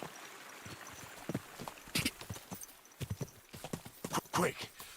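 Horse hooves clip-clop at a quick, uneven pace in the video game Kingdom Come Deliverance 2, with sharp hoof strikes over a low rumble and a voice speaking between them.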